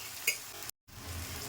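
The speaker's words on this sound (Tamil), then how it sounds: "இந்த வெங்காயமும் இந்த வாழைப்பூவும் நல்லா வதங்கணும்" Chopped onion and banana flower are stir-fried in a pan for a banana flower and egg dish, making a faint, soft sizzle with a light stirring scrape and a brief cut to silence midway.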